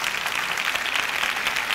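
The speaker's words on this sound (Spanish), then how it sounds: "aplauso de bienvenida en nombre de tantos y tantos a los que él nos hace sonreír y reír con sus historietas" Audience applause welcoming the Spanish cartoonist Ibáñez, steady dense clapping filling the whole short stretch at even loudness, with no talk over it.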